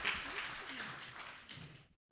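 Applause from the audience at a London business scale-up pitch showcase, soft and fairly distant, a steady patter of clapping that fades out after about two seconds, with a voice faintly present.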